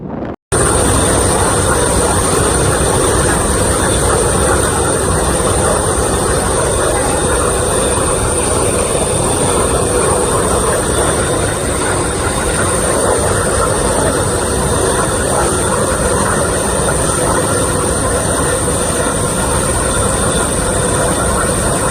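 A Lockheed C-5 Galaxy at the EAA Air Show, heard as a loud, steady, continuous jet engine roar that holds without a break for the whole stretch, with no voices over it.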